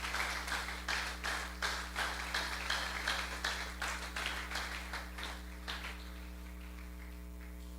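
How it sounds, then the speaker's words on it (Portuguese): A church congregation applauding for Jesus, steady rhythmic clapping from many hands over a sustained musical drone, gradually thinning toward the end. "Então dê um aplauso lindo para o Senhor Jesus nessa hora"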